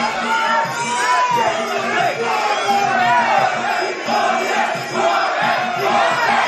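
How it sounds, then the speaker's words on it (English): A loud arena crowd chants in steady rhythmic waves at a live Super Fight Fest kickboxing bout, voices rising and falling continuously as spectators cheer on a fighter. "Crowd's getting into it."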